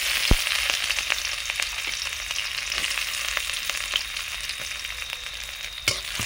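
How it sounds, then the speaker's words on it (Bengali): Steady, close sizzle of chopped onions frying in hot oil with whole dried chillies, crackling throughout with a few sharper pops and stirring clicks; no voices. "ভালো করে পেঁয়াজটা ভেজে নেব।"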